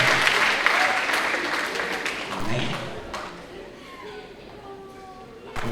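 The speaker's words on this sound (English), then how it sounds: "I think I deserve a round of applause for that" Audience applause at a school signing day event, loud clapping at the start that gradually thins and fades over several seconds while voices talk underneath and continue as it dies away.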